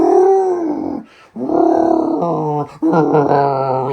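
A person imitates a dog's low, husky vocalizing with grumbling, groaning howls, close and loud, in three sustained bursts separated by brief pauses.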